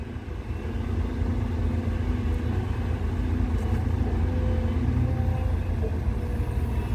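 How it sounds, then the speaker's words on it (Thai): An Italian six-cylinder turbo diesel engine running steadily, a deep continuous low rumble with an even hum, close and unchanging, with no talk over it. "เครื่องยนต์อิตาลีครับ6สูบ"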